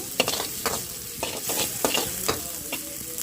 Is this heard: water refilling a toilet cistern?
no